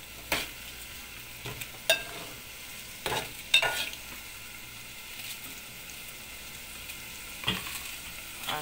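Spring onion and egg curry with turmeric being stirred in a pan: a quiet, steady sizzle broken by a few scraping clinks of the spoon against the pan.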